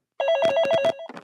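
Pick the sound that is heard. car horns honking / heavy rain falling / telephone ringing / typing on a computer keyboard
telephone ringing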